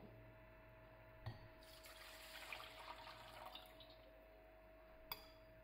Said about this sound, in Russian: В миску наливаем воду.